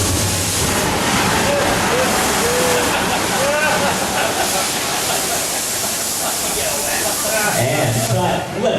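Heavy water rushes and splashes across a studio backlot set in a loud, continuous roaring spray. A voice calls out over the water during the first half.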